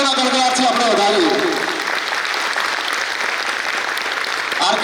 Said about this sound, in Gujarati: જોરદાર તાળીઓના ગડગડાટથી આપણે વધારીએ